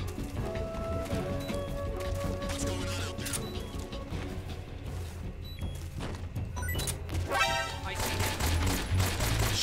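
Gunfire in Metal Gear Solid 3 HD crackles in dense, overlapping volleys of sharp shots and thuds for nearly ten seconds. It stays loud and busy throughout and grows heavier toward the end.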